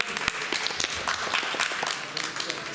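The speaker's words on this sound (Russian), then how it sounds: "Аплодисменты." Audience applauding at the Kursk Open 2018 final, a patter of scattered hand claps forming moderate applause, with some voices mixed in beneath.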